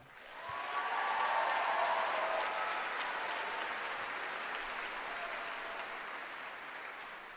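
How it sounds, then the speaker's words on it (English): Audience applause at a fashion show, a large crowd clapping with a quick swell, a brief cheer early on, then sustained even clapping that slowly tapers off, somewhat distant. "let's give a round of applause to the second half of the fashion show"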